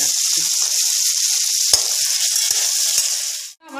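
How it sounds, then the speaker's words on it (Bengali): Soya chunks sizzle steadily in hot oil, a bright continuous hiss punctuated by a few sharp clicks of a spoon against the pan, before the frying briefly drops away near the end. "আমি এবার এরকমভাবে নিউট্রিয়েন্টটা ভেজে এরকমভাবে তুলে রাখছি"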